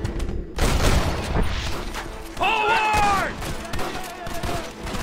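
Gunfire in Red Dead Redemption pops and booms amid shouting, with a loud opening burst and scattered shots further on, layered over game music and a voice call.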